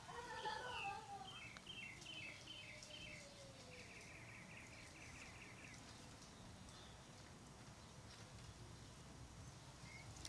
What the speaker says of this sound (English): Let's take a moment to hear the bird song.